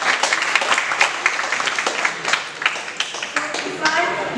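Audience applause for an eco-bricking group at a 2024 gathering, a dense steady patter of many hands clapping for several seconds, fairly close and loud with a few sharper individual claps standing out.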